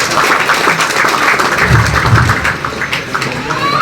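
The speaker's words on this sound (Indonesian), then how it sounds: "Tepuk tangan." People at an Indonesian halal bihalal gathering of a Nahdlatul Ulama branch clap loudly and fairly close. The clapping is irregular and somewhat uneven, with a few low thuds mixed in.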